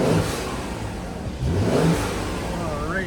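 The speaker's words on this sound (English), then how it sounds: "I'll give it a few revs." A 2015 Mercedes-Benz E400 Cabriolet's 3.0-litre twin-turbo V6 revs up from a steady low drone, swelling loud around the middle and then settling back, with a faint whistle near the end.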